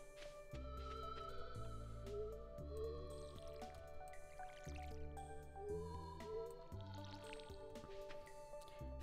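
In the Stardew Valley video game, a watering can splashes onto rows of cranberry crops. Short wet drips and squishes recur at a steady pace over continuous looping game music.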